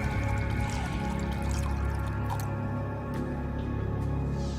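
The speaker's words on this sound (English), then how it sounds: "The magician pours the water into the mug." Water poured into a mug during a magic trick, a steady wet trickle with light drips, close and moderately loud with no talking.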